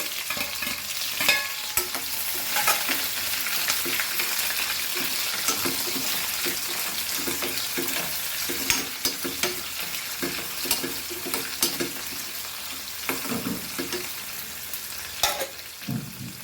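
Onions and chili frying in a pan for sardine curry, a steady close sizzle broken by repeated stirring scrapes and occasional louder crackles, with no talking.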